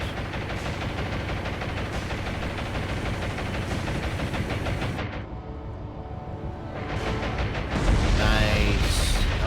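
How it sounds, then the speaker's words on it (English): Heavy naval combat in the War on the Sea video game, with a ship's forward magazine blowing up: a dense, continuous roar of blasts and rumbling that swells louder near the end, with no voices over it. "That was a forward magazine explosion too."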